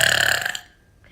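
One short, loud burp erupts from a champion burper, a quick rough gurgle that cuts off into near silence.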